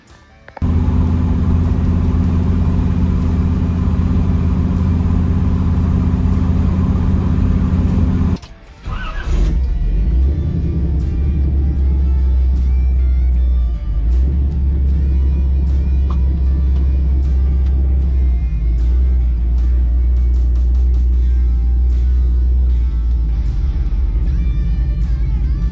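A car being driven to break in new 3.73 rear gears, a loud steady engine drone and road rumble that cuts out briefly and then resumes, close throughout with no talk.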